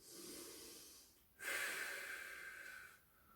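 Deep, slow breaths during a back-stretching exercise: a soft exhale, a brief pause, then a louder, airy inhale or exhale, close and quiet with no talking.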